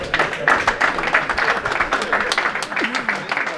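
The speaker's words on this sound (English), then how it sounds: "How did he get more of a clap than me?" Audience applause in a seminar room, scattered clapping from a crowd breaking out for a man who just joined, with voices and laughter mixed in throughout.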